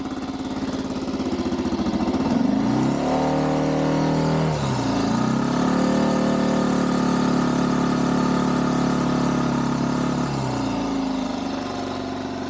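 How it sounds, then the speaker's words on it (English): A Harley Davidson MT350 motorcycle engine runs loudly and steadily, with several revs rising and falling in pitch around the middle of the clip before it settles back to idle. No one speaks. "it's a good idea to give it a run test, and I'm going to rev the bike as well"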